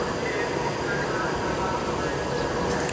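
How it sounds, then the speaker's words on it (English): Class 390 train 39131, an Avanti West Coast Manchester Piccadilly to London Euston service, arriving at Stafford on the West Coast Main Line as a steady, loud, continuous rumble and rush of passing rail noise with no breaks. "I literally turned around and found coming in 39131, working the 1852 Avanti West Coast service from Manchester Piccadilly to London Euston"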